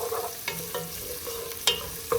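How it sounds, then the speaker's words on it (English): Close-up crackling sizzle of fresh homemade pasta in a pan, with scattered pops and a few clinks of stirring breaking through the steady hiss. "They have a nice sizzling going right now"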